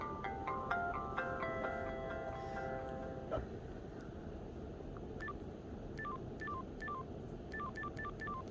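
A Motorola Razr V3M flip phone plays its electronic startup or shutdown tones: a short melodic chime run, then a series of quick, clipped beeps in irregular groups over a steady background hiss.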